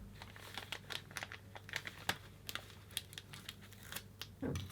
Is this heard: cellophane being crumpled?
yes